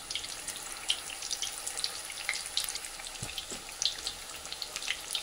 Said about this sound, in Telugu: వేసుకొని గోల్డెన్ బ్రౌనిష్ కలర్ వచ్చే వరకు ఫ్రై చేసుకోండి